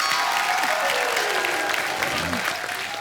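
A studio audience at a comedy show applauds continuously, a dense wash of clapping with some cheering underneath that carries through the whole stretch without pause.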